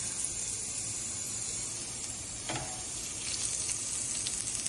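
Hara bhara kebabs fry in a pan with a steady, close sizzle and hiss, and a brief stirring scrape partway through.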